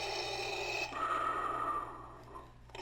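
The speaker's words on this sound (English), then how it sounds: "you have this sound effect here for the breathing" A slow, hissing mechanical breath cycles once through a Hasbro Star Wars Darth Vader replica helmet, a long airy inhale followed by a raspy exhale, close and steady with no talking.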